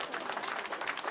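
Applause for Conservative leader Pierre Poilievre at a Legion event in Newfoundland, a dense, even patter of many hands clapping throughout the short burst, fairly distant and steady in loudness.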